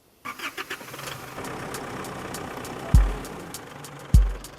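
A car engine idles steadily on a hard track, with two heavy thumps as the vehicle's wheels roll over binoculars placed in its path.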